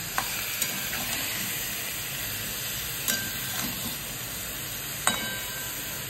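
Chicken stew ingredients with green chilies and salt frying on high flame, a strong continuous hissing sizzle with a few sharp ticks of stirring, and no voices.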